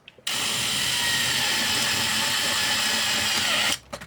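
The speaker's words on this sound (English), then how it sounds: "All I'm going to do is just drill the actual head off." A power drill runs at high speed in one continuous burst of about three and a half seconds, drilling the head off a screw in a double plug socket, close and loud, with brief handling noises before and after.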